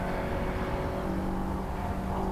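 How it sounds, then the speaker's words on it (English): Mini Se7en and Miglia race cars roll back into the pit lane at Thruxton circuit, a steady, continuous engine drone at moderate distance with no voices. "So the drivers head back into pit lane and park firmly."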